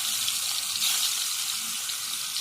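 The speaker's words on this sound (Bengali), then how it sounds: "এক এক করে মাছ আমি ভেজে নিচ্ছি" Rupchanda (pomfret) fish frying in oil, heard as a quiet, even crackling hiss that holds steady throughout the short stretch, with no talking.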